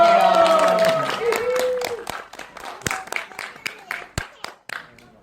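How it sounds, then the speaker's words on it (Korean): Scattered clapping from an audience at a Korean screening and Q&A for an animated dinosaur film, following a brief voice and tonal sound, then thinning to sparse individual claps that fade out. "여러분 다시 한번 뜨거운 박수 부탁드릴게요"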